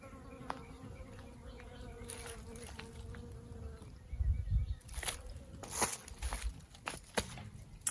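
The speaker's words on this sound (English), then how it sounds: "There's bees just, oh," Bees buzz close by in a garden, with scattered rustles and bumps that grow louder partway through.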